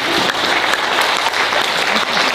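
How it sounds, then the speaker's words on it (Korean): Congregation applauding during a church service for pastors, a dense, steady burst of clapping throughout. "박수 한번 나가야 돼요"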